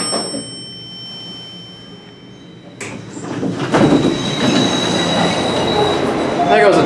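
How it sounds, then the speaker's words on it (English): A train passes through a station platform, starting quiet and then swelling into a loud, close rumble of wheels with metallic squealing that keeps building to the end, with no voices. "There goes the train."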